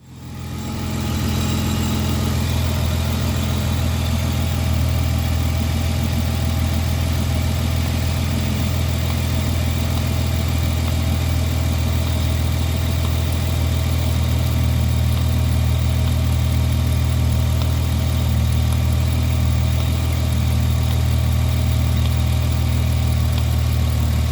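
A Mitsubishi Eclipse engine starts and settles into a steady, loud idle with a deep rumble and constant vibration, running on without speech.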